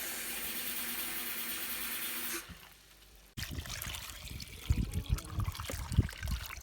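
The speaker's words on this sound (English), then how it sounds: "I'm filling another cold one because I need all the toys to be submerged in the water" Cold water pours from a tap into a tub to soak parrot toys, a steady close stream that cuts off briefly and then comes back as splashing, sloshing water with uneven bursts as the tub fills.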